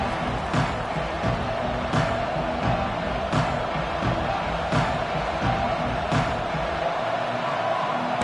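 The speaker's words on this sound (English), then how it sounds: "This crowd ready to make its presence known." Stadium crowd at an American football game roaring in a broad, sustained wash of noise, with repeated rhythmic thumps and swells through the cheering and a commentator's voice faintly mixed in.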